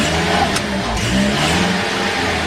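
A Hiace vehicle's engine revs as the accelerator is pressed during a driving lesson, a loud, close mid-pitched roar that swells and eases in a couple of pushes without any talking.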